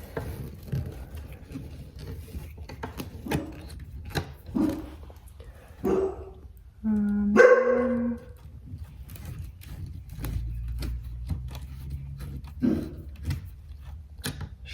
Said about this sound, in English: Shop dog must see my daughter coming home.